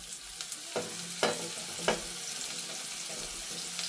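Garlic sizzles gently in oil with cumin and turmeric, a soft continuous hiss in a pan broken by three distinct stirring scrapes of a spoon at roughly even intervals, fairly quiet overall.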